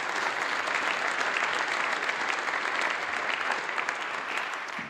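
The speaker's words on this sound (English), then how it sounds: "Let's give a big round of applause for that" Sustained applause from a large audience at a charity fundraising event, dense and steady for the full stretch before tapering slightly at the end, with no voices over it.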